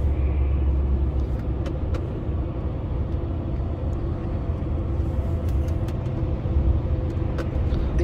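Highway driving near Brussels with a Scania V8 truck nearby: a constant low road rumble and engine drone from inside a moving vehicle, fairly loud and steady, with faint clicks above it.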